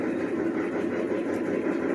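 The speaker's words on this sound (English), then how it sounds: "Sorry for the noise. That's the dryer." A small 2.5 cubic foot clothes dryer, seven years old, runs nearby with a steady low mechanical hum and rumble, constant in level throughout.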